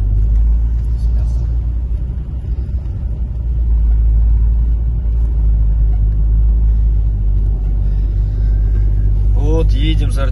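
Car driving to the gym: a steady, loud low rumble of the engine and road noise from inside the moving car throughout, with people talking over it.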